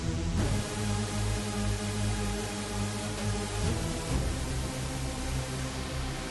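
A thick, buzzing supersaw synth chord layered with hissing white noise, sustained and loud, shifting slightly partway through.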